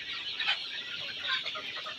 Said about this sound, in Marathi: आता हे जे आहेत हे छोटे पक्षी आहेत आपले